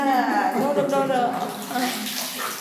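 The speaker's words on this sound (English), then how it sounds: "Oh, look what Russell's doing. Take a shower." A person showering under running water outdoors, a steady splashing wash of water with voices speaking over it.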